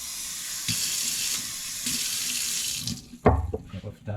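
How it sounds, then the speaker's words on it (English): Tap water runs from a kitchen faucet in a steady hiss that stops and restarts, then ends with a splash into a cup. "And a cup of water, tap water."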